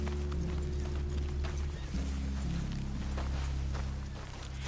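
Horses walking in the video game Red Dead Redemption 2, hoof clip-clop faint beneath a loud, steady low drone of game ambience and music.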